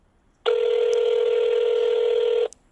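A single steady telephone tone sounds loud and close for about two seconds on a call to GoPower, a solar power company, with a brief click at its start and end.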